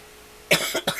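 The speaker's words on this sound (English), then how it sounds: "Can't seem to get rid of this cough." A sudden close cough, two or three quick harsh bursts after a quiet moment.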